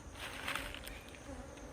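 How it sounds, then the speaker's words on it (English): Soft, continuous buzzing of a honeybee swarm flying away from its hive to a new site, a faint, steady insect hum with no talk. "the queen, together with about 500 drones and thousands of worker bees, will fly away from the hive to a different location"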